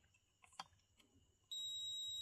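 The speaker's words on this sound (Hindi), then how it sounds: "देखिए इसके लेफ्ट साइड वाला ये हमारा बीप का साउंड आ रहा है" A multimeter continuity beep sounds while the audio input ground is probed on a TPA3116 2.1 class D amplifier board. A few faint clicks come first, then a loud, steady, high tone that holds unbroken to the end.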